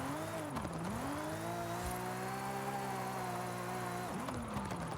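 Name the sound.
Nissan R33 Skyline wide body drifting, from a video game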